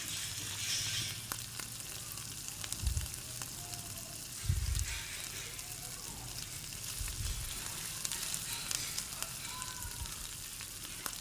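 Mustard-based stuffing for kakrol sizzles gently in a pan, a soft steady frying hiss with a few dull scraping thumps from a spatula as it is stirred, fairly quiet throughout.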